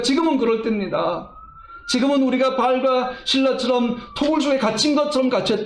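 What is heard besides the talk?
ambulance siren outside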